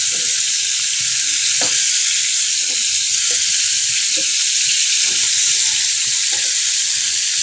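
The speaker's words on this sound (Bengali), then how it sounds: "চুলার আঁচ মিডিয়ামে রেখে আমি একটু উল্টে পাল্টে মাংসগুলো ভেজে নেব" Chicken pieces sizzle steadily in oil in a pan over medium heat, a loud continuous hiss punctuated by occasional clacks as the meat is turned and stirred.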